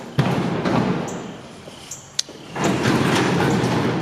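A tall shop toolbox is rolled across a floor, its casters making a rumbling, rattling roll. The noise eases briefly, a sharp knock comes through, then the rolling picks up again, fairly close and fairly loud, with no talk over it.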